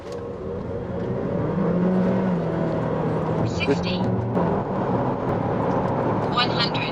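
A BYD Tang DM hybrid SUV accelerates hard on a test drive, its engine and drivetrain building a steady, strengthening whir heard from inside the cabin while people talk over it.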